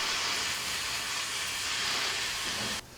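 A steady, loud hiss of steam rushes continuously from a boiling tank cooking stone crab claws, then cuts off abruptly near the end.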